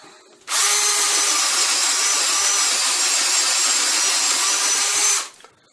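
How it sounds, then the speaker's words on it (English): A cordless combi drill with a 13mm chuck whirs steadily at high speed for about five seconds, starting and stopping abruptly, close and loud with no talking. "This is a cordless power drill."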